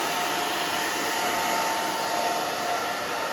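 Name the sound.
hair dryer blow-drying short hair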